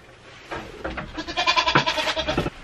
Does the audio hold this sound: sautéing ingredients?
no